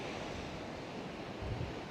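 Wind blows steadily outdoors on a windy day, a constant faint rushing noise buffeting the microphone with a couple of low gusts and no talk.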